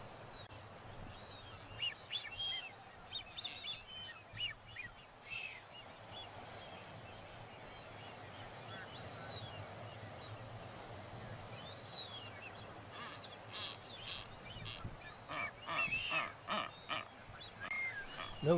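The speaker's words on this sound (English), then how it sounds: "Notice that she honks," Faint calls from a female blue-footed booby in the Galapagos sound outdoors amid chirps and rustling, soft and distant, with short honk-like bursts scattered through the clip.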